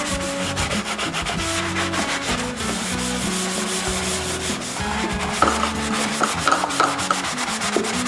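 A Scrub Mummy sponge scrubs marks and dried-on food around every surface of a kitchen sink, a steady, close rubbing and scouring that runs throughout with a few sharper clicks of contact near the end.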